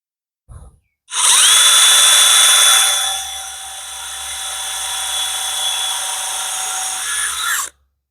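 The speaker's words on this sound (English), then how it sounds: "Oh, that drill bit sucks." A power drill bores into a planed wooden board about an inch and a quarter thick, with a loud, steady high whine for roughly six seconds that dips slightly as the bit bites, after a brief click at the start.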